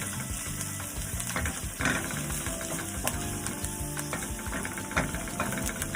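Garlic sizzling and frying in a pan for Filipino fresh lumpia, a steady dense crackle held close and continuous with small bubbling pops throughout.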